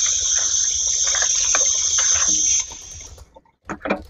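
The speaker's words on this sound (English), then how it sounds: "I'm running cold water over my pasta" Cold water runs from a tap over pasta in a sink, a steady loud gush for about three seconds that then cuts off, followed by a few brief clatters.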